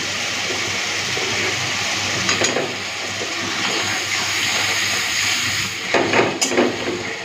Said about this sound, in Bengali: অল্প একটুখানি জল দিয়ে মশলাটাকে খুব ভালো মতো কষে নেব